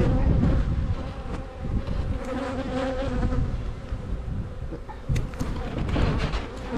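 Dense, steady buzzing of a black honeybee colony during a spring hive inspection, loud and close throughout with many bees humming at once, no talking.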